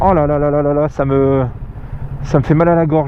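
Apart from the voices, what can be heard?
No distinct noise like a dog, phone or traffic.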